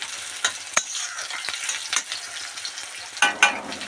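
Chopped garlic and dried red chili fry with a steady broadband sizzle in a pan, punctuated by several sharp scraping clicks as a spatula stirs them, with a louder clatter near the end; no talking.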